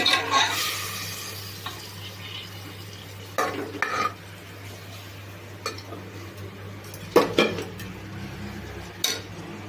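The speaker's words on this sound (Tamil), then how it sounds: "நல்லா கிண்டி விடணும்" A ladle stirs brinji rice in a metal pot over heat, with soft sizzling underneath and occasional scraping, clanking strokes against the pot's sides.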